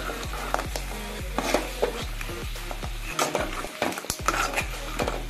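Crab pieces are stirred into thick masala in a pan: steady rhythmic scrapes and clinks of a spoon against the pan over a low sizzle, close and fairly loud, with no voices.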